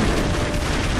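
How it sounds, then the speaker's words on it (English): Grenade explosion in the video game Broforce, a dense, loud, rumbling boom filling the whole second with no gap. "You fucking killed me with your grenade!"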